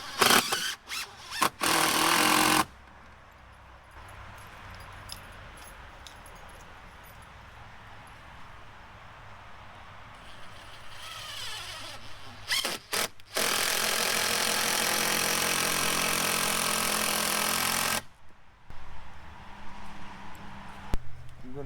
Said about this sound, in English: I'm going to use these 4-inch GRK construction screws, and I'm going to re-secure the bottom plate of the wall to this new joist